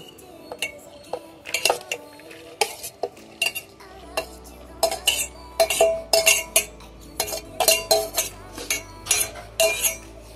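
Assorted ingredients tumble and clatter into a clay pot for chutney, a rapid series of sharp clinks and knocks with a low steady hum joining partway through, no talking.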